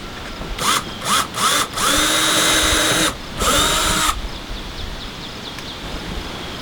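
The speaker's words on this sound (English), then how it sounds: "Pre-drilling always saves a lot of aggravation." A power drill pre-drills screw holes for mounting a solar light outdoors, several short bursts followed by two longer whirring runs, close and clear, with faint birds or insects chirping afterward.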